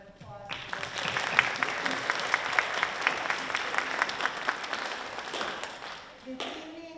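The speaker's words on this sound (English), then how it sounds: "So a nice round of applause." An audience at a school board meeting applauds, a steady round of clapping that holds for several seconds before tapering off, with a voice speaking briefly at the end.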